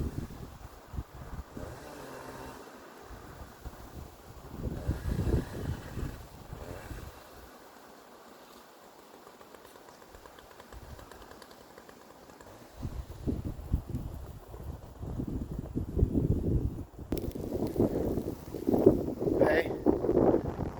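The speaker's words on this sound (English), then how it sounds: "on a windy day." Gusty wind roars and buffets the microphone among ironwood trees being cut on a farm on the Big Island of Hawaii, swelling into strong, loud gusts near the end, with a voice speaking at times.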